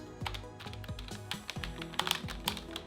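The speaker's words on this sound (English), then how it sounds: "listen to these keys" Keys on an ASUS ROG Claymore II optical mechanical keyboard clack in quick, irregular bursts of typing, close and fairly quiet, with soft low thumps under each press.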